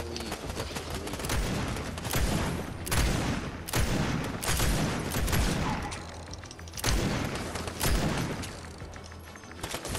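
Rapid bursts of Fortnite video game gunfire repeat throughout, with dense fusillades and a few heavier booming shots, loud and steady.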